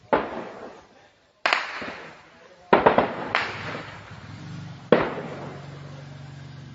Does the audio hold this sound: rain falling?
no